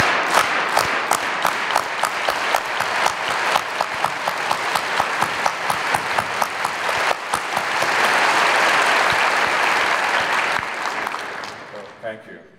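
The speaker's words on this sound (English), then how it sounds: "We start off clapping slowly, and then we gradually get faster." A crowd performs a solidarity clap for Dan at a pro-Palestinian speech event, loud unison claps starting slow and steadily speeding up into a dense continuous roar of applause that fades near the end.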